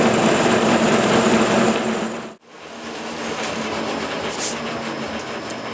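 K&T milling machine taking a heavy, aggressive cut in stainless steel, a dense loud roaring hiss that breaks off abruptly for an instant midway, then resumes as a steady grinding rush to the end.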